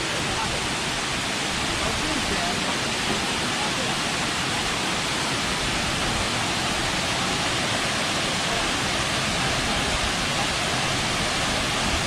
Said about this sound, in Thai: น้ำตกไหลลงมาจากหินปูนนะครับ